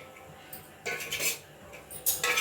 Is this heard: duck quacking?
no